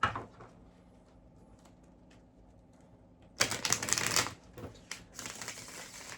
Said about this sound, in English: just gonna give it one more shuffle.